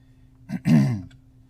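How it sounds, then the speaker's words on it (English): A person clears their throat nearby: a brief catch followed by a longer, rough rasp, then quiet. "Pardon me as I clear my throat a few times."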